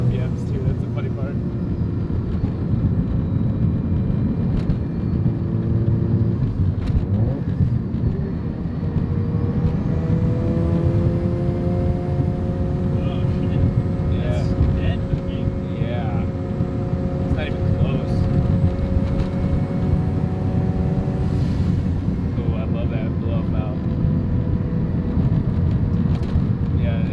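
A Mazda FC RX-7 rotary engine drones loudly and continuously, its pitch climbing in rising sweeps as the car accelerates, with people talking over the engine noise.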